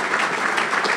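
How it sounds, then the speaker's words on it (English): A banquet audience claps for Brother Chris, producing a brief, dense burst of many hands that is loud and fairly close for about a second. "Let's give Brother Chris a big round of applause for his thank you."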